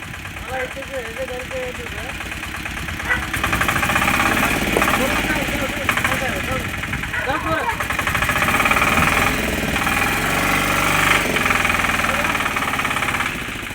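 A stuck vehicle's engine runs loud and steady with a knocking, idling chug while it is pulled free at a spot where a broken drain-chamber cover left a hazard, with voices mixed in.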